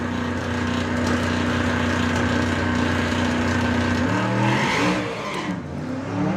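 A VW Passat drag race car launches at Bug Jam VW Pro qualifying, a loud, steady engine drone that breaks into rising, wavering revs as the tyres spin, with crowd and track noise underneath.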